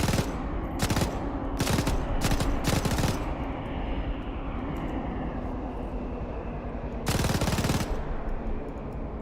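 A World War II machine gun fires in Arma 3 in several short, loud bursts of rapid shots, a long gap with steady background rumble, then another sustained burst near the end.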